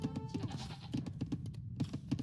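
A battle goat in a strategy video game bleats in short, rapid, nasal pulses, repeated in a quick stuttering rhythm over a busy game backdrop.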